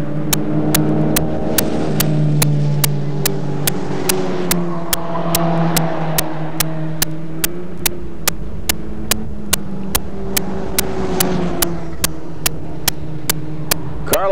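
Racing cars in a 1990 Skip Barber series race, with engines droning and shifting pitch as they accelerate, steady and loud throughout, punctuated by regular sharp clicking ticks.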